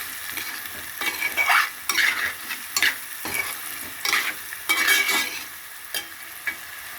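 Salt, turmeric and chili powder frying in oil in a pan, a continuous close sizzle broken by repeated scraping stirs of a spatula at an uneven rhythm; no voices.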